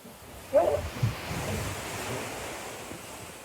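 Strong squall wind and breaking waves at sea aboard a sailboat crossing the Pacific, a continuous loud rushing roar with a sudden splash near the start, buffeting the microphone with no speech.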